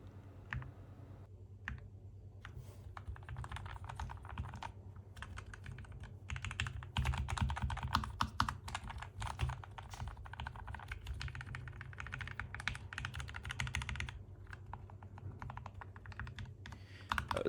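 Continuous typing on a mechanical keyboard fitted with lubricated switches, dense and steady clacking with small pauses, heard up close alone over a low background hum.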